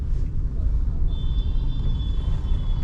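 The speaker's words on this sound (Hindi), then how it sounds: "बहुत ट्रैफिक है" Heavy road traffic in India, a dense continuous rumble of engines and tyres all around, with a thin high tone entering midway and no clear voices.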